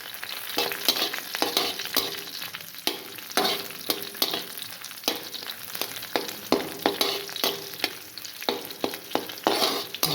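Dried red chillies and masala frying and being stirred in a pan for egg curry, with a steady sizzle broken by repeated sharp spatula scrapes and clinks at an irregular rhythm, close up and without talk.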